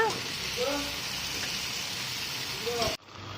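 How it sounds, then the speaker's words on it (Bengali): Potatoes frying in a pan with tomato and ginger-garlic paste, a steady loud sizzle and crackle running under a talking voice for about three seconds before cutting off abruptly. "আলুগুলো দিয়ে দেবো, দিয়ে আবার একটু ভেজে নেবো।"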